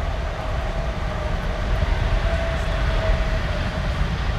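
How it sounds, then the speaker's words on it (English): A South Western Railway train passes close by, a steady loud rumble and rolling roar with a faint whine throughout, heard alone without talk. "Another southwestern railway."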